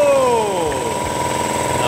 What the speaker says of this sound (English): For starters, this can run my 3000 watt compressor.